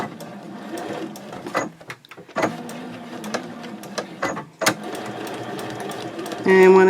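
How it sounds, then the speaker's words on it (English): A domestic sewing machine stitches a straight line across fabric for a fold-flat project bag in short clattering runs with stops and a backstitch, close and fairly loud, while a person talks throughout. "I'm going to start just by sewing on that 1-inch line."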